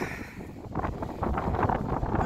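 Strong wind gusts outdoors beside chicken coops, buffeting the microphone in a steady low rumble that swells toward the end, with no one talking.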